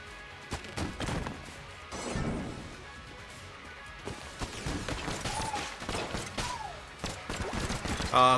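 Rapid video-game gunfire as a player shoots at tough enemies, a near, loud stream of cracking shots and thudding impacts with a few brief pauses, over steady game background sound.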